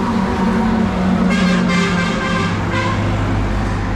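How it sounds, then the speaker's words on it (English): Busy early-morning highway traffic in Vietnam, a constant roar of passing cars and trucks with several car horns tooting through the middle, heard continuously without talk. "this highway, even so early in the morning, is really busy, as you can hear it and see it"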